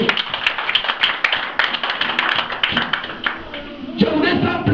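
A church congregation at a French-language evangelical service applauds in dense, rhythmic bursts of hand clapping, close and lively, with voices cheering and calling out among the claps.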